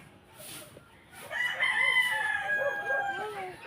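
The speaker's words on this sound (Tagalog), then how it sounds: "Tutukain ka ng chicken." A rooster crows loudly nearby, a drawn-out call rising over soft clucking and farmyard background.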